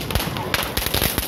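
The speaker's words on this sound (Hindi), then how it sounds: "और यहाँ पे बच्चे लोग पटाखा फोड़ रहे हैं" Children setting off firecrackers during a Kali Puja festival night celebration: repeated sharp bangs and crackles at irregular intervals, some close and loud, with voices talking in the background.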